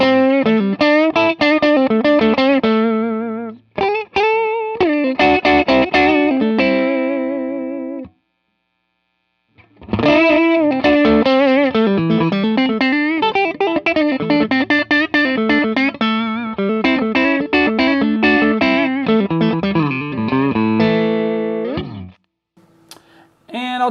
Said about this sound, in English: if you boost the level a little bit more, you get some kind of natural, overdrive out of your amp